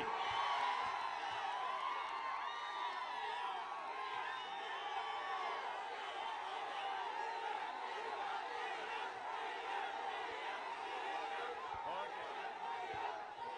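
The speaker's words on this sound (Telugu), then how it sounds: "ముందు గట్టిగా చప్పట్లు కొట్టి కమిటీని అభినందించండి" Large crowd at a political speech rally giving a sustained, loud roar of cheering and shouting that holds steady for the whole span, with no separate claps standing out.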